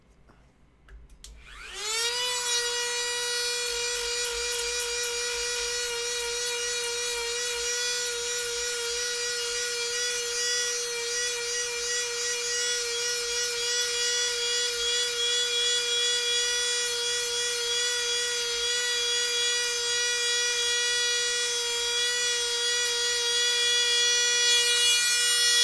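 A power grinder works at an old costume, spinning up after a brief start and then holding a loud, steady high whine with only slight shifts in pitch as it grinds continuously and alone.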